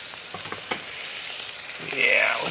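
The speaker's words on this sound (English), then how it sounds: "Now that the butter is nice and melted and sizzling" Peppers and onions sizzle and crackle steadily in melted butter in a hot pan, with a few stirring clatters and the sizzle swelling louder near the end.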